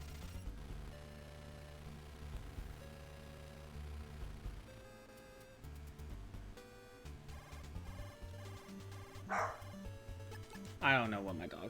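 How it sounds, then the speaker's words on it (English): A pet dog barks and yips somewhere in the room, faint and intermittent beneath busy chiptune music from a Metal Gear NES game. "I don't know what my dog's barking at."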